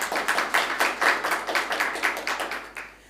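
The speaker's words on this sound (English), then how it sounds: "Let's give them a round of applause." An audience at a debate competition gives a short round of rhythmic, evenly paced clapping, close and clear, fading out in the final moment.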